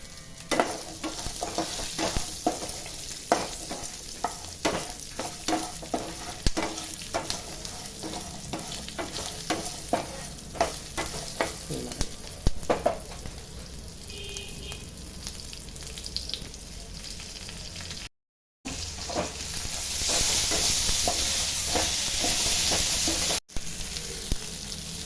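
Shallots, garlic and ginger stir-fry in a pan for chutney, giving a steady sizzle broken by frequent scraping stirs of a spoon. A brief gap falls near the end, followed by a brighter, louder burst of frying.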